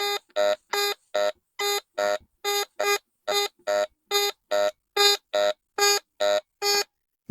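A Fisher F75 metal detector gives a rapid series of about nineteen loud, pulsing electronic tones with harmonics as it sweeps back and forth over buried targets such as small bronze and silver pieces, each beep clean against silence.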